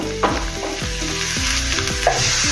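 Softened onions fry in a pan while being made into paneer khurchan, a steady close sizzle under a rhythmic series of scraping stirs with no talking.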